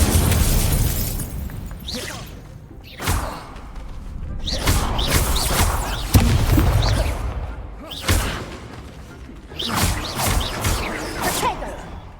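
Repeated fire spell blasts in the game Hogwarts Legacy, several bursts of whooshing flame and booming impacts at irregular intervals, loud and close with crackling between them.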